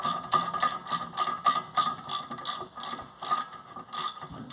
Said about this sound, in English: There's a ratchet.